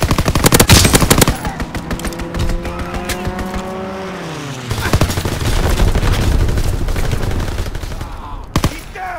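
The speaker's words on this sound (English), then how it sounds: "Fighter pilot inbound. Strafing the target." Fighter plane strafing run in Call of Duty WWII multiplayer on Gibraltar: loud rapid machine-gun bursts with an engine roar sweeping past and dropping in pitch, then more scattered gunfire.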